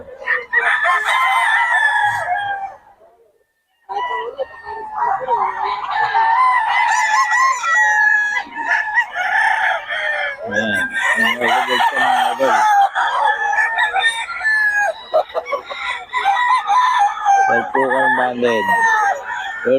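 A rooster at a poultry gathering in Bocaue crows repeatedly and clucks loudly up close, with people talking in the background.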